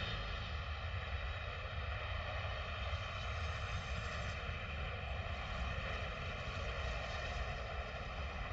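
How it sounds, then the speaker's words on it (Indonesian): Steady aircraft engine roar from a passenger plane that has just landed, a continuous loud drone with a low rumble and layered engine tones, no voices. "pesawat telah mendarat dengan aman."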